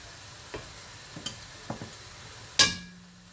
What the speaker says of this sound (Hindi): अनियन हो गया थोड़ा सॉफ्ट, मैं जिंजर गार्लिक का पेस्ट इसमें डालती हूँ।